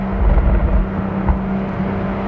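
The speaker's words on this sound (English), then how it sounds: "Oh, the 6-cylinder in here does sound good." Toyota GR Supra six-cylinder engine in sport mode with auto blip, a loud, close, low growl that swells briefly early on and then holds steady, with no talking.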